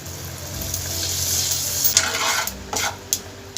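A turmeric and salt mixture is stirred in a hot cooking pan, a soft continuous sizzle with scraping strokes and a few sharp clinks of the utensil against the metal toward the end.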